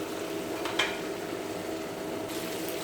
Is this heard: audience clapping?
no